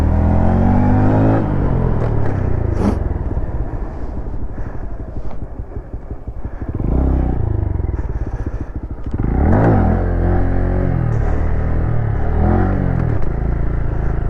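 Close and loud, a motorcycle engine revs hard, drops off as the gear changes into second, then climbs again with a clattering mechanical edge. The bike is heard alone, with no talking.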